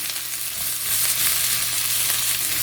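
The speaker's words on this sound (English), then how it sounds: "And saute those until they're tender" Carrots, onion and purple cabbage sauté in a pan with a steady, close sizzle that swells slightly partway through and holds at an even level, no voices present.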